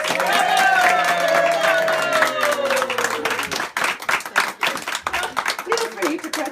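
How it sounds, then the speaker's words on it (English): A small group claps and cheers for a new Dame Sheila after a round of hip-hip-hoorays. A sustained tonal note fades beneath the start, then loose, uneven clapping follows, with voices mixed in. "And a round of applause."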